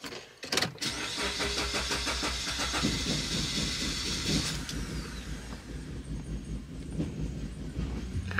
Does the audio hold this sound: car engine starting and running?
yes